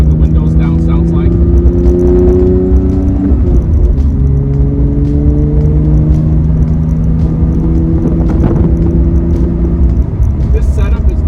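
Porsche 992 GT3 with Kline headers exhaust droning steadily with the windows down, engine pitch rising and shifting through gears in a loud continuous rumble with road and wind noise, heard close from the cabin.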